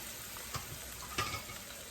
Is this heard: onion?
yes